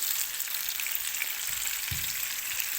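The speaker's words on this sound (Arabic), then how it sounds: "وانتي برضو بتقلي في البصل في الجنب التاني" Onions fry in a pan beside Alexandrian-style liver, giving a steady dense sizzle close by, with a soft low knock near the end and no talking.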